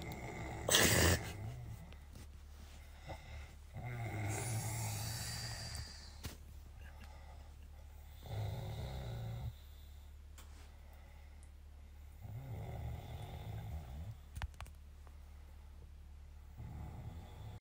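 A person snores in slow, regular rasping breaths about every four seconds, soft and close, with quiet stretches between.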